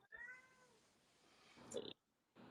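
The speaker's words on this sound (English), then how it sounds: "just know it's the cat, and he wants to come in" A house cat meows to be let in, one drawn-out meow followed by a shorter higher call, faint and fairly close with no talk.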